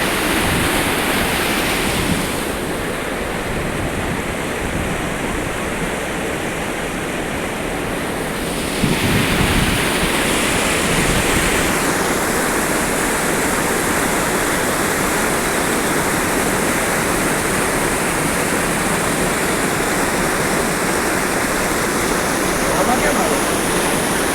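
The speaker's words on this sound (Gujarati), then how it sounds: "આપ જોઈ રહ્યા છો માલર નદી" The Malan river near Mahuva, Bhavnagar, rushes and splashes as a loud, continuous roar of moving water, steady throughout with a slight surge partway through.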